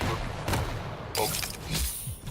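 Shotgun blasts in the arena shooter Quake Champions, a few sharp bursts spaced apart within a brief stretch of game noise.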